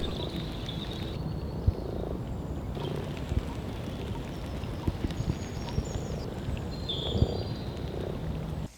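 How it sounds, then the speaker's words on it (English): Common frogs croak in a thick, unbroken chorus, punctuated by occasional sharp clicks and higher chirping calls drifting over the din. "And more calling frogs."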